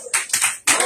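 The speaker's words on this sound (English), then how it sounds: "Just give God a hand clap of praise." Three short bursts of hand clapping from a group, each a quick crackling flurry separated by brief pauses.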